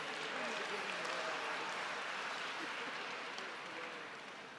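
Applause from the delegates of a Presbyterian general assembly business session fills a large hall, a steady dense wash of many hands that holds evenly and then tapers slightly toward the end.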